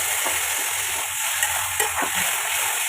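Food being stirred and sautéed in a pan with fried potatoes and a splash of water, a steady close sizzle with scraping spatula strokes throughout, no voices.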